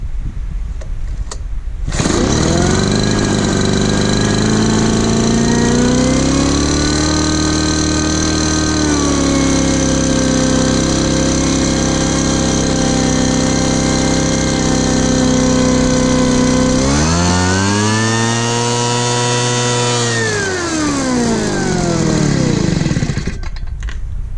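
A 30-year-old Sears leaf blower's small two-stroke engine fires up and runs loudly and close for about twenty seconds, its buzzing pitch rising and falling as it revs, before cutting off.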